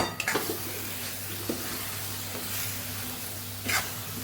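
Drumstick (sargva) curry with fresh coriander being stirred in a pan, a soft steady simmer broken by a few light scrapes and taps of the spoon against the pan.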